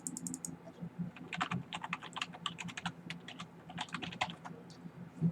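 Rapid bursts of keystrokes on a computer keyboard, close and clear, with irregular pauses between runs of taps and no talking.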